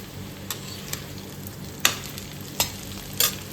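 Arbi (taro root) sabzi being stirred in a pan over low heat, with a few scattered spoon scrapes and clicks over a faint steady cooking hiss, no talking.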